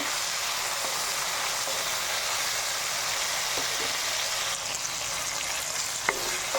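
Okra and tomato frying in a pan for Onam sambar, stirred steadily, a continuous close hiss and sizzle with a few faint scrapes of the spoon, no talking.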